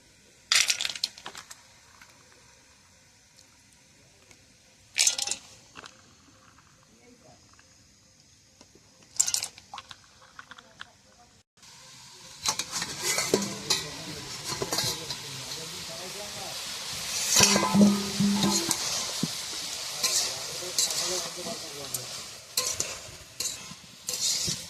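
Rice rinsed in water in a village kitchen by a wood-fired stove, heard as close swishing and sloshing that builds after a few short rattles. Someone speaks briefly in between.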